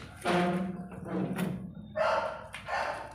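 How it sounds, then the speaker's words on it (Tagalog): A dog barks a few times nearby at a gate, sharp separate barks with short gaps between them, fairly faint overall and not covered by talk. "May aso dito."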